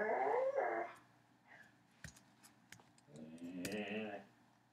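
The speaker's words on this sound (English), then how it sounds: "I don't know if you can hear my dog in the background." A dog makes noises nearby indoors, with short whines and growly vocal sounds at moderate volume and brief pauses between them.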